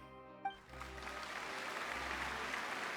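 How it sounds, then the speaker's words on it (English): Audience applause in the video game Genshin Impact, a live crowd clapping that swells in after a brief musical tone and holds as a steady, dense wash of claps to the end. "Oh, the applause."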